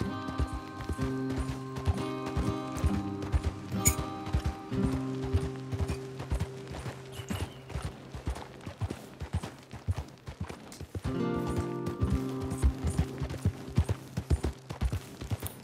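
A horse gallops in Red Dead Redemption 2, its hooves beating a fast, even clip-clop up close under a droning musical backdrop, with only faint talk.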